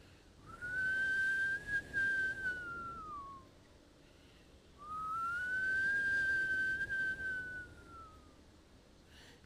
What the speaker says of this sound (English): he starts to hear the whistling sound once more.